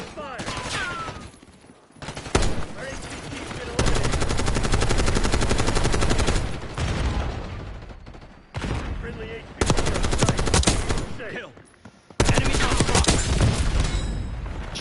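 Gunfire and explosions in the Black Ops 6 video game, loud bursts of rapid automatic fire broken by short pauses, close and dense, with booming blasts mixed in.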